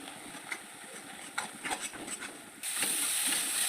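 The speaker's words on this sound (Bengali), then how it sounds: "মশলাগুলো ভালোভাবে আমি ফ্রাই করে নেব" Ground turmeric, chili, coriander and cumin fry in a pan for a tamarind fish curry, with soft hissing and a few crackles, then a sudden louder, steady steam-like hiss near the end.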